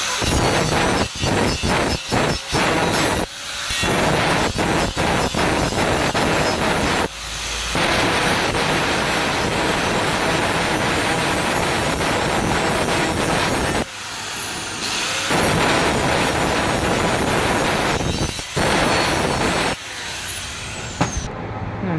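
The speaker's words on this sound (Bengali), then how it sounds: "যারা গ্রাইন্ডিং মেশিন চালাতে পারেন তারা এই মেশিনটা ধার কিভাবে দিতে হবে সেটা দেখাবো" A grinding machine sharpens a blade in loud, harsh runs of whining, rasping noise, cut by a few short pauses between passes.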